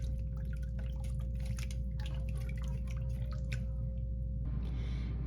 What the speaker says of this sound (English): let a little of that hot water come off, and plunge it in